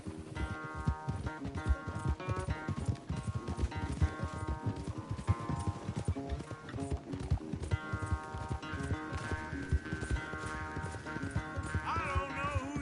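Galloping horse hooves in Red Dead Redemption, a fast steady clatter of hoofbeats during a race, loud and continuous beneath a backdrop of music.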